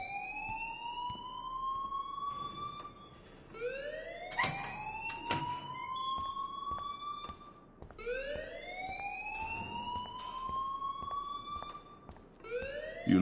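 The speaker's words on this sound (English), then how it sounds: "please turn off that alarm since that's your job" A school alarm in the video game Life is Strange repeats rising electronic whoops about every four seconds, loud and sustained, with faint background clatter and no speech.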